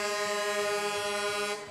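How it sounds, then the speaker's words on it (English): A loud, steady air horn blares from a vehicle at a St. Patrick's Day parade, holding one sustained blast for nearly two seconds before it cuts off. "probably a good thing since they're honking"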